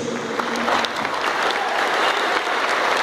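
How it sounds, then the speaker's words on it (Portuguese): Loud, sustained applause from a congregation after a Way of the Cross performance, many hands clapping together in a continuous dense roar with a faint cheer underneath. "Jesus merece todos os aplausos e todos os vivas."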